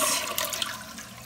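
A toilet flushes in a loud, continuous rush of swirling water that fills the whole moment, with no talk over it.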